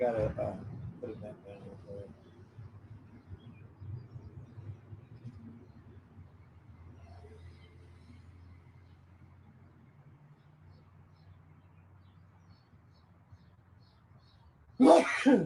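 In a quiet indoor room, a person speaks briefly and low background noises follow, then a single sharp, loud sneeze bursts out near the end.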